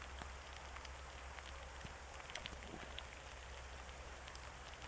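Heavy rain pouring on a golf course, a dense steady hiss with scattered drop patters, moderately faint and even throughout with no voices.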